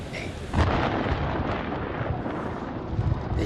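Thunder rolls through a storm in the horror game Man of Medan, a sharp crack followed by a long, heavy, continuous rumble.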